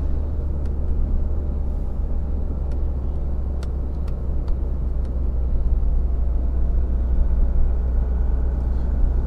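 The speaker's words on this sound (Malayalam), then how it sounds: "67 km സ്പീഡിൽ നമ്മൾ ക്രൂയിസ് ചെയ്ത് പോകുന്ന വണ്ടി." Tata Harrier cruising at a steady highway speed on cruise control, a constant low road and engine rumble inside the cabin with faint ticks, no talk.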